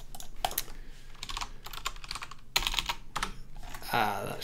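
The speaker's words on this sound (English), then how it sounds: "Not used to using my actual laptop keyboard" Laptop keyboard typing in bursts of quick clicks with brief pauses, fairly close, with some low talk in the background.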